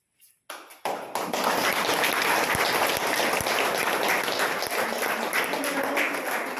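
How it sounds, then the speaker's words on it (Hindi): Applause from the gathering at a workshop inauguration, starting with a few scattered claps and swelling within a second into steady, full clapping that carries on to the end. "और दोबारा जो तालियों की गड़गड़ाहट आप सुन पा रहे हैं"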